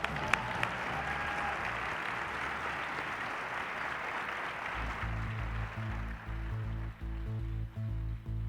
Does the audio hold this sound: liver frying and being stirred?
no